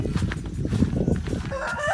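A rooster crows at a chicken coop in a short, strained call near the end, rising out of close, rustling farmyard noise and shuffling.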